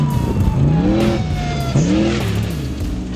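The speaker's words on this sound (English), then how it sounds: "we're driving the Armada 6100 truck" An Armada 6100 off-road race truck engine revs hard and loud, pitch climbing and dropping through two strong surges over about three seconds, with no talking.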